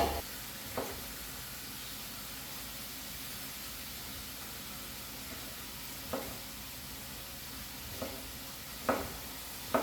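Chicken frying in a pan at home, a steady close sizzle and hiss running throughout with a few soft stirring or utensil knocks, and no talking.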